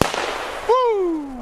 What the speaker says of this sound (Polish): Rakiety. Fajny huk mają.